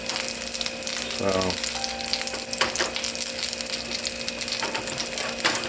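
Homemade potato cakes fry in a pan of hot oil, giving a steady close sizzle with a brief scraping shuffle partway through and a faint voice now and then.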